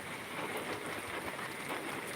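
Steady rain falls over a village with cornfields nearby, a dense, continuous hiss of drops on surfaces that stays even and fairly close throughout, with no voices.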